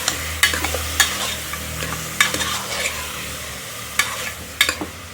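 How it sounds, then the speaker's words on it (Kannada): Mutton frying with onion and oil gives a continuous close sizzle, broken by several sharp scraping stirs of a utensil against the pan at irregular intervals, with no talking. "ಮಟನ್ ಹಾಕ್ಕೊಂಡು ಚೆನ್ನಾಗಿ ಆನಿಯನ್ ಜೊತೆ ಆಯಿಲ್ ಜೊತೆ ಫ್ರೈ ಮಾಡ್ಕೊಳ್ಳಿ"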